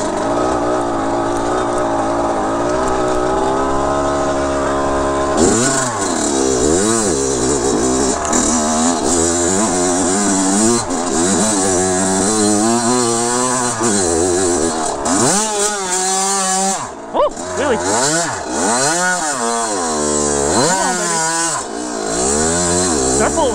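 A 2007 Kawasaki KX 100 dirt bike ridden on test, its two-stroke engine buzzing loud and close throughout, pitch sweeping up and down with repeated revving, shifting and throttle blips.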